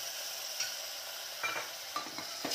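Grated tomatoes being stirred into a frying masala for a white chana paneer curry, with a steady soft sizzle and a few scraping stirs of the spoon near the end, no talking.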